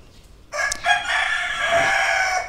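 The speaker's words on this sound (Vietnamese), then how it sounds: "Ồ, bạn nghe thấy chưa? Gà gáy kìa." A rooster crows loudly and close, one long drawn-out call that starts abruptly after a short quiet moment and holds until the end.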